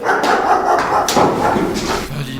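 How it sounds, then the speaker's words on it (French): A dog barks several times in loud, close, rough bursts, with whimpering yips in between, in a studio room. "d'où vient ce chien dans le studio?"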